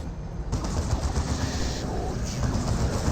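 Gunfire in the real-time strategy game Dawn of War 2 (Elite Mod), including plasma guns, heard as a continuous rattling barrage of overlapping shots at moderate volume, with a commentator talking over it.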